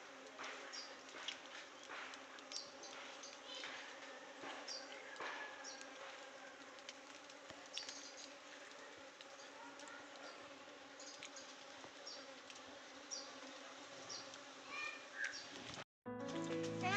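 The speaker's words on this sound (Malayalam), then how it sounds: "കണ്ടോ, ഒത്തിരി തേനീച്ചകളുണ്ട് കേട്ടോ." Honeybees and stingless bees buzz continuously around flowers in the morning, a steady close hum of many insects with small bursts, with no talking.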